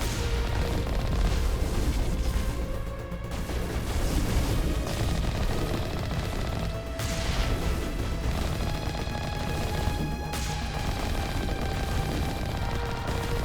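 Sustained gunfire and heavy weapon blasts in the Mass Effect video game, a dense continuous barrage with repeated bursts and booms layered over a game soundtrack throughout.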